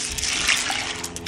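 Sunflower seeds pour into a pot of salted water and get stirred, a close, continuous splashing and swishing of liquid with no voices.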